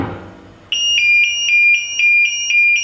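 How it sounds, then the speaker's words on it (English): A shipboard watertight door's closing alarm sounds as the door shuts, a loud electronic tone pulsing steadily in rapid repeated beeps after a quiet start, with no talking. "This will give an audible alarm and a visual indicator by a flashing light while it's closing."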